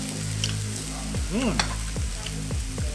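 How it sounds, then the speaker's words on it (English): Steady hiss of a 20 lb steak sizzling on a hot grill, with a few clinks and scrapes of utensils over the continuous crackle. "listen to that sizzle, sizzle"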